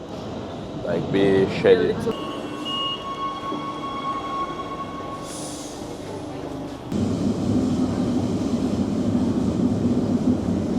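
A metro train moves through an underground station, a loud rumbling roar with a steady hum and a rising whine, swelling toward the end while people talk over it.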